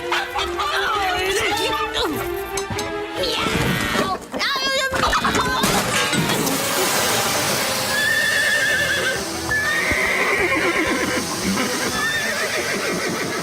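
Horses whinny and neigh loudly amid hoof clopping and general commotion in a western film scene, with shouting voices and clatter mixed in, the neighs rising clearly in the second half.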